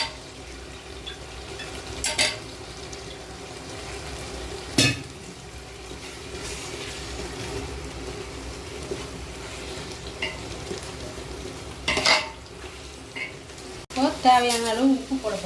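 Potatoes and meal maker soya chunks hit a pan for a veg biryani, giving a steady low sizzle punctuated by a few sharp scraping stirs and clinks, with a brief burst of bubbling activity near the end.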